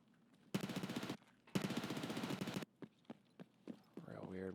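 MP5 bursts in Escape from Tarkov, two long loud rapid-fire strings about a second each, followed by scattered single cracks and a brief rising sound near the end.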